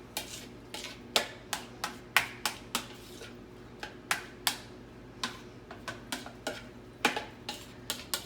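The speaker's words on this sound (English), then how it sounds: "And stir that in" A spoon stirs an ingredient into a mixture in a bowl, giving a steady run of sharp, close clinks and taps against the sides, about two per second, with no talking.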